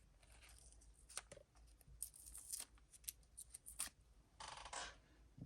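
Tape peeled off a painted fishing lure in short, close, quiet bursts of tearing and crackling, with a longer strip ripping near the end, no talking.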